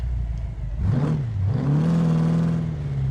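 A deep, throaty muscle-car engine in a BeamNG video game revs up, dips, then climbs again into a sustained rumbling roar, close and loud with no talking.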